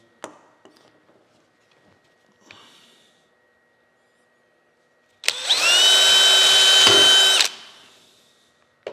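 A power drill bores a hole into a wooden drum pattern for a mill, one loud sustained whine of about two seconds that starts abruptly and cuts off, after a few faint handling clicks in near silence.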